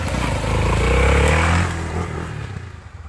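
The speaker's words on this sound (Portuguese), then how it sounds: "Não para não, tá vindo moto." An adventure motorcycle on a dirt trail in the Serra do Japi roars past close by, engine swelling to a peak and then fading as it moves away, with gravel crunch under the tyres.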